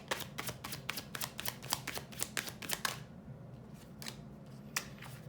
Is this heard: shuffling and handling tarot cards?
yes